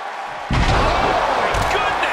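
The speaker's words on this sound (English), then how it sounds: "where you can't hear yourself think because the crowd's so loud" At a WWE Raw wrestling event, a heavy thud sets off a dense, sustained roar from a loud arena crowd that fills the rest of the moment.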